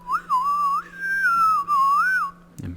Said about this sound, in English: I give a low whistle